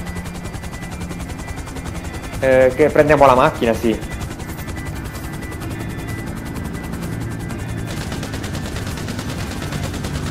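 Helicopter flying in the video game GTA 5 Online, a steady rotor drone throughout with a short burst of talk in the middle and a higher whine joining later.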